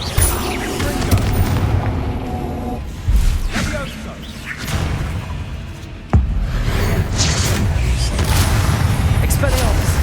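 Fiery Confringo blast spells bursting during a wizard duel in Hogwarts Legacy, loud booming impacts with whooshes, one sharp blast near the middle and another heavy burst later, under continuous battle noise and shouted spell calls.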